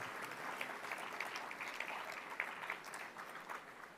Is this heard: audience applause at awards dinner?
yes